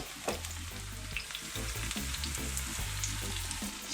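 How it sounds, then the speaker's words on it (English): Jamaican vegetable fritters fry in hot oil with a steady, close sizzle and scattered spitting crackles, while a low tonal hum runs underneath. "And I'm gonna fry them on both sides."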